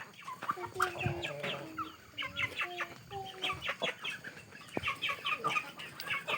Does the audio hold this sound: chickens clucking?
yes